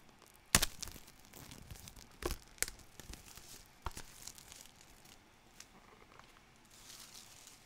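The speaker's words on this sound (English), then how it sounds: "So we're going to open this, and first it's sealed quite nicely" Sealed packaging of a Trezor Safe 5 hardware wallet being torn open up close, with a few sharp rips followed by softer crinkling and rustling of paper and plastic.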